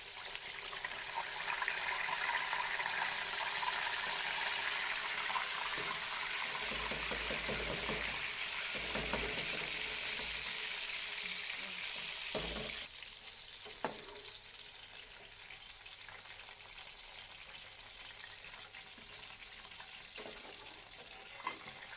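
Fried koftas tipped into a pan of masala sizzle and crackle steadily, a loud continuous hiss with occasional stirring clatter, easing slightly toward the end.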